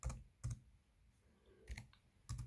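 A few separate clusters of clicks on a computer keyboard as a command is typed, close and quiet, spaced out with short pauses in between.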